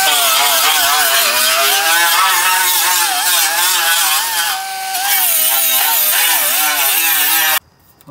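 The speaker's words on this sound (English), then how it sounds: "You wanna take your sanding wheel and clean up all these edges now." A sanding wheel on a power tool grinds burrs off the cut edges of truck rocker panel sheet metal, a loud whining screech with wavering pitch that briefly eases, then stops abruptly.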